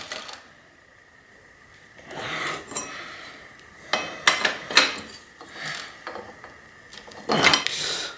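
A pedal tightened on a Fuji Nevada mountain bike, heard as quiet at first, then bursts of metallic ratcheting and scraping from a wrench with sharp clicks and clanks, irregular and close.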